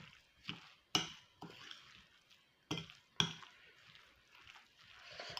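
A spoon stirs and scrapes through thick zucchini batter with semolina in a bowl, with soft wet swishes and a few sharp clinks against the side, close and quiet.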